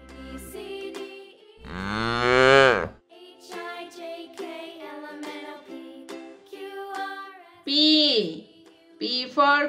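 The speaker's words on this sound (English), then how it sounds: "O for ox." An ox gives one loud, drawn-out moo for about a second in a children's alphabet song, with sung melody before and after it.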